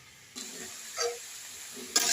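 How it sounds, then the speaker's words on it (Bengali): Diced potatoes fry in a pan with a soft, steady sizzle, broken by brief scraping stirs that rise out of the low hiss. "আলুগুলো দেখুন ভাজা হয়ে গেছে"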